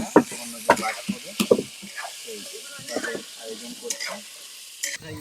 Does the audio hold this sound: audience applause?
no